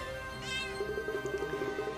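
Cartoon cat meows from the video game Cat Quest, a short run of repeated mewing calls over game music, moderately loud and close.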